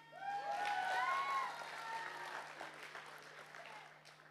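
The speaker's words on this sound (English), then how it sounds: "So a round of applause for her." An audience at a flute recital claps steadily in a single burst of applause that swells early and then gradually thins, with a faint sustained tone underneath and no clear talking.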